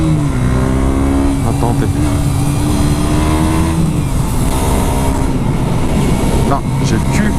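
A KTM Duke 125 motorcycle engine drones loud and close on a winding downhill road, its pitch climbing and dipping as it gains speed, with a rider speaking over it.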